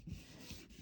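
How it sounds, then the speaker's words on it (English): Glued paper pieces pressed and rubbed together while assembling a handmade card layout: a brief, steady dry scraping rub, close by and alone. "I apologize for the noise that this makes when I glue these pieces of paper."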